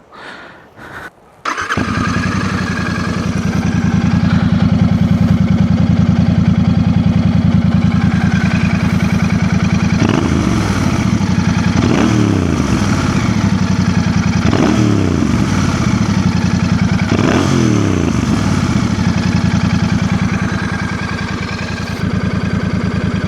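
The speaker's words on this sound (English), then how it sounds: "Let's try and listen to the exhaust note." A Royal Enfield Bear 650 motorcycle with a single exhaust starts up and settles into a loud, steady idle close by, then rises through several short throttle blips and falls back, with no one speaking.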